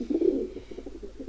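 Soft, low pigeon-like cooing of birds in The Sims FreePlay, a short run of rounded, gently pulsing coos, close and fairly quiet with no talk.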